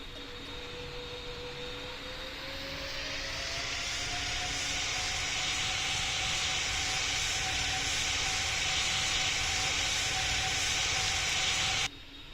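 An airliner in the Roblox flight simulator Pilot Training Flight Simulator rolls in to land, a steady jet roar and hiss that builds over the first few seconds and then holds loud and even before cutting off abruptly.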